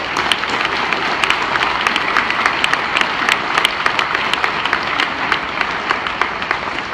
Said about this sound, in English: give yourselves a big round of applause right now